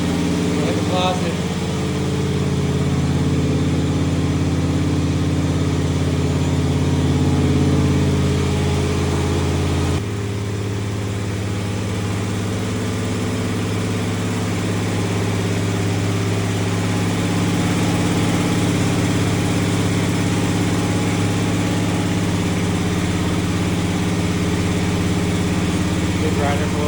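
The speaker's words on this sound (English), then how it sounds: "Good grinder for a little room." A floor grinder works a terrazzo floor in a small room, a loud continuous motor drone with a low steady hum that shifts slightly partway through, with talk over it.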